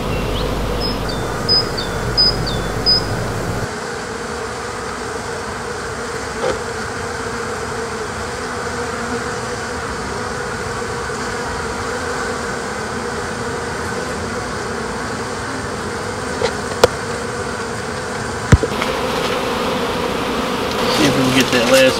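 Bees buzz in a dense, continuous drone around an opened beehive being rescued from ants and termites, close and steady, with a few faint clicks and knocks from handling the hive.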